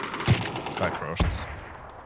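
Gunfire in PUBG on the Miramar desert map, two sharp shots with echoing tails about a second apart, fairly close, with faint voices in the background.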